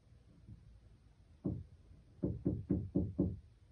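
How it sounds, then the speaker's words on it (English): Six quick, dull knocks sound nearby: one alone, then a rapid run of five evenly spaced raps, each short and low-pitched, in a quiet room with no talk. "That was a little knock"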